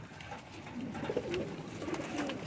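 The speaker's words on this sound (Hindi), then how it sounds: "माशाल्लाह माशाल्लाह बहुत ज़बरदस्त कबूतर।" A Rampuri pigeon coos softly, a few low, rolling murmurs rising over a steady background hiss, fairly quiet and close, with no voices.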